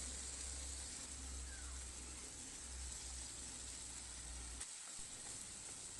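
Pieces of meat sauté in a hot pan with a steady, even sizzle and hiss, a low rumble underneath, and a brief stir or scrape near the end.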